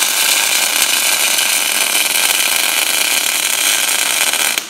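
Steel is welded while a welding table is built, producing a continuous loud, dense crackling hiss that stays even throughout and cuts off at the very end.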